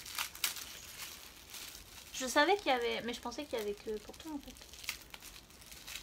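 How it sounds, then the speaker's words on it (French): Soft, scattered paper crinkling rustles in the background while a person speaks over it, with the crackles quiet and intermittent. "Désolée pour le bruit de papier."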